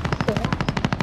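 A rapid burst of automatic gunfire from a Call of Duty match, about a dozen sharp evenly spaced shots in just over a second, loud and close.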